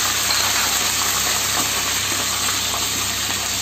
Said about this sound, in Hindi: ये देखिए तेल गरम हो गया हुआ है, इसमें मैं थोड़ा सा अदरक लहसुन डाल दूंगी, और इसमें मैं ये कड़ी पत्ता और हरी मिर्ची भी डालूंगी।